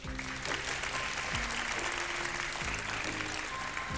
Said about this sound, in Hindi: इनके लिए तालियां बजाएं आप।